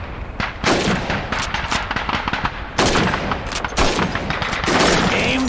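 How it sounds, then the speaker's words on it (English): Repeated rifle shots crack across a shooting range of bottles and plates in Call of Duty 2, a dense, loud run of gunfire with a few heavier, fuller blasts standing out over about five seconds. "Shoot those bottles and plates."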